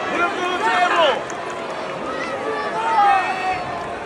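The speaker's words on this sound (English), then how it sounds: "Do you hear that Cody chant? They're fucking going ballistic and the place was packed." Packed wrestling arena crowd chanting for Cody Rhodes during his Smackdown dark match with Drew McIntyre: massed voices rising and falling in rhythmic waves, echoing and loud, with a nearby person talking over it.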